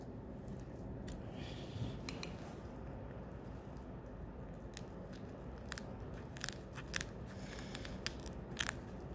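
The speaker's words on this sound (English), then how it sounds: "So the first thing we do when we dissect is we cut open the operculum." Scissors snip through the tough bony gill cover of a dissected fish head, giving scattered sharp crunching clicks over a low, noisy background, faint and close, with the cuts growing more frequent toward the end.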